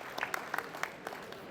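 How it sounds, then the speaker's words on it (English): Scattered, fairly quiet applause from a luncheon audience, a handful of distinct claps standing out over a soft background murmur, brief and moderately distant. "Let's give them a round of applause."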